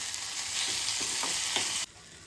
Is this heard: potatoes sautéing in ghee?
yes